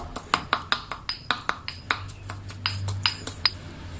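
A pestle strikes steadily in a mortar as chili paste is pounded together with shrimp paste, giving about fifteen sharp, evenly spaced knocks with a bright ringing edge, close and moderately quiet.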